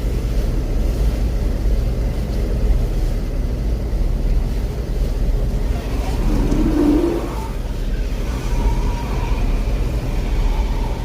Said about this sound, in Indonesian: Oke, kapal tunda masih continue untuk merapat ke depan lur ya.